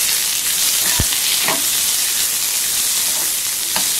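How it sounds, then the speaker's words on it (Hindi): Onion, ginger and garlic frying in a pan, a dense close sizzle that holds steady throughout, with a few soft stirring knocks breaking through. "फ्राई कर लेंगे सबसे पहले"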